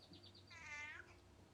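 A cat meows once in a drawn-out, rising and falling call, close and moderately loud over faint room noise, with no talk.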